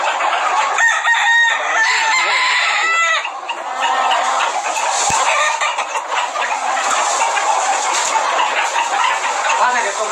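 Roosters crow repeatedly over a busy farmyard backdrop of clucking fowl, loud and close, with overlapping calls throughout; someone talks intermittently in the background.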